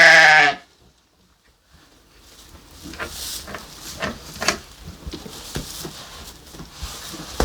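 A ram on a farm lets out one loud, close, quavering bleat, followed by quiet shuffling and soft patter of hooves and movement nearby.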